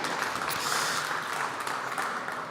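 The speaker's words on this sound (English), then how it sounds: "Please give him one more round of applause." Applause from a seated summit audience comes as a dense, even patter of many hands at moderate distance. It holds steady for the whole stretch with no voices over it.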